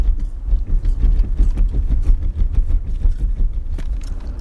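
A car drives along with a steady, close, low engine and road rumble. Irregular light knocks and rattles from inside the cabin sit over it, and there is no talking.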